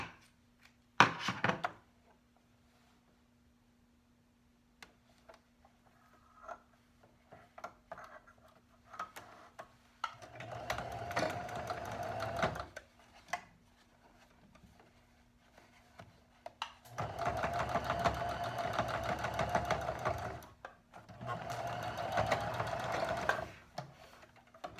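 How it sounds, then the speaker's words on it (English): A sewing machine stitches a two-layer cloth face mask in several bursts of rapid, close mechanical whirring, one brief and three longer runs, separated by quiet pauses with faint handling clicks. "And I'm stitching it on both sides."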